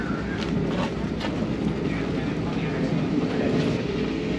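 Inside a moving Brightline passenger train between Fort Lauderdale and Miami, a steady rumbling cabin drone with faint rail clicks and rattles running continuously, with people talking over it.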